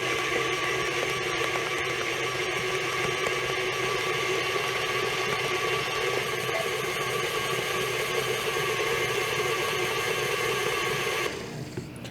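An electric mixer beats gluten-free bread batter on medium speed with a steady, even motor whir and buzz, close and constant, then drops off at the end as it is switched off.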